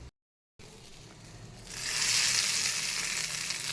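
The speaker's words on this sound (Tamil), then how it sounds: "கடுகு, எண்ணெய் ஊற்றி கடுகு, உளுந்தம்பருப்பு, பெருங்காயம், ஒரே ஒரு வரமிளகா போட்டு இதை தாளித்து" Mustard seeds, urad dal, asafoetida and a dried red chilli are tempered in hot oil. After a brief silence comes a quiet hiss that swells into a loud, steady, close sizzle.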